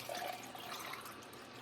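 Water pours into a clay pottery tankard being checked for size: a brief, steady splashing trickle, close and fairly quiet.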